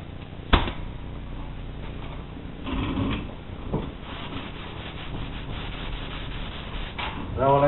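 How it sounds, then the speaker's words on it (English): Hand sanding of blocking primer on a surface, worked in a back-and-forth cross-hatch pattern, giving a steady close scratchy rubbing with a few louder strokes and knocks. "Now when I sand this, I sand it just like I sand anything else."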